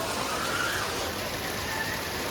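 Heavy rain falls in Surat as a dense, steady hiss of drops on surfaces, even and close throughout the short stretch, with no speech over it.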